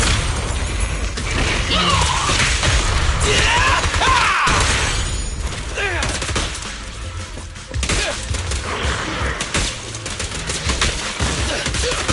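Gunfire in the game Zenless Zone Zero, a loud, dense barrage of shots mixed with mechanical clanks and crashing impacts, continuous for about twelve seconds with game music and effects underneath.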